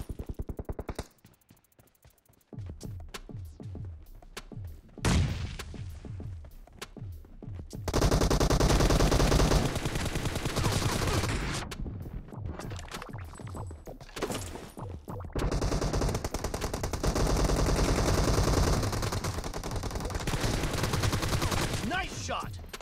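Rapid automatic gunfire in a PUBG team deathmatch game, long sustained bursts separated by short pauses, loud and close, with a brief game announcer voice in between.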